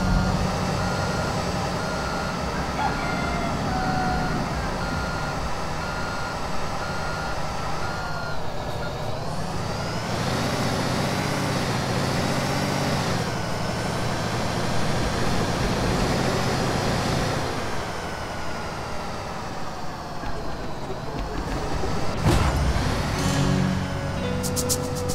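Construction vehicle in the video game Construction Simulator 2 driving along, a continuous engine drone that rises and falls with gear shifts, with beeping tones over it and no talk.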